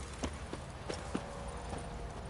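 Horse hooves clip-clop in The Witcher 3, a handful of distinct, evenly spaced hoof strikes over a faint steady background hum.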